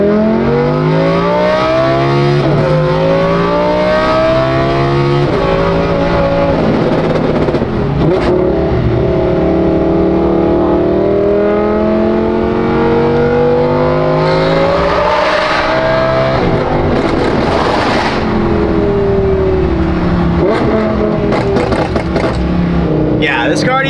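A Chevrolet Corvette C6 drives on wet roads in the rain. A loud, close engine rises and falls through repeated revs and gear changes, with road noise underneath and people talking over it.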